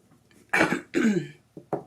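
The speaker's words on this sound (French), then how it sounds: "je tousse encore beaucoup, j'ai vraiment de la misère" A person coughs close by, two harsh, heavy coughs followed by two shorter, lighter ones.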